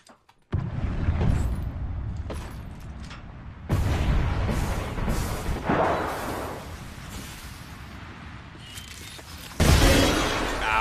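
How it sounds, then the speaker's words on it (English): Heavy gunfire in a video game, a few loud booming blasts with long crashing decays spread over several seconds, plus rumbling background noise and no speech. "Whoever is firing that gun does not miss much."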